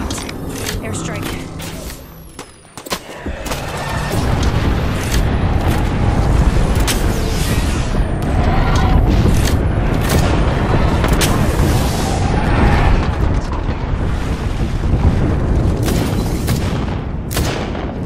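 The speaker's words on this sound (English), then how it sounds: "Airstrike." An airstrike in the Apex Legends video game pounds with heavy, rumbling explosions and gunfire that run loud and continuous for many seconds, with voices calling out over the barrage.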